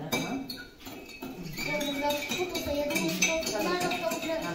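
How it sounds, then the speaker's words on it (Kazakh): A spoon clinks repeatedly against a glass while stirring, light rapid taps under people talking nearby. "Так, Камила, енді қасығымды алды, дұрыстап тұрып, қайтадан араластыр"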